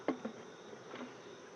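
Honeybees buzz around a beehive after the honey flow, a faint steady drone with a few brief, nearer passes as single bees fly close.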